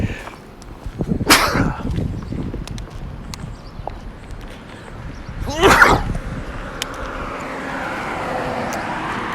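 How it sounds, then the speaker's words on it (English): A sneeze bursts out near 1.3 seconds, with a second loud burst near 5.8 seconds, heard outdoors during a walk along North Broadway in historic Argenta, downtown North Little Rock, Arkansas, over steady street ambience. "I do know I have to sneeze."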